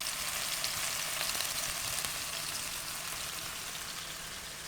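Leftover fried rice with chicken, sausage, salt and pepper sizzles and hisses steadily in a hot pan as it is stirred, a dense continuous frying crackle with no voices.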